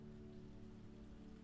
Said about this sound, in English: This gentle harmony of rain, wind, and occasional birdsong forms a tapestry of sound